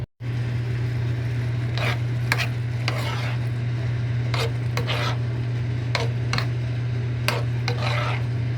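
Cooked mung beans are stirred in a pan with a spoon, giving repeated, irregular scraping strokes over a steady low hum and a soft background hiss.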